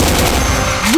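A grenade explodes in the Vietnam War shooter Crossfire Vietnam, a loud, dense blast that fills the whole second with rumbling noise.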